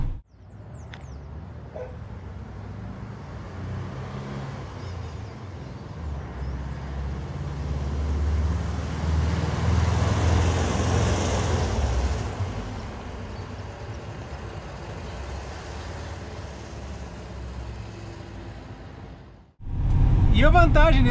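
A Volkswagen Kombi with a Bosch multipoint fuel-injected boxer engine drives along, its steady low engine drone and road rumble swelling mid-clip, then easing before a brief drop and a louder return at the end.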